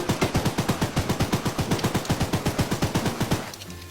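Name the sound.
gunfire in a horror train video game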